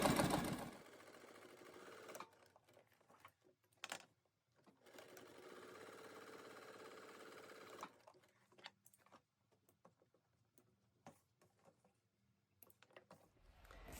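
A sewing machine stitches a fabric clutch wallet at a 1/8 inch seam allowance, running in quiet bursts of rapid mechanical chatter separated by brief pauses and small handling clicks, with no talking.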